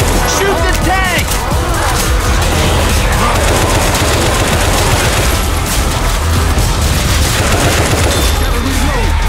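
Sustained gunfire aimed at the Tank in Left 4 Dead 2, rapid overlapping automatic shots and booms firing continuously and loudly throughout, with game chaos underneath and no talk.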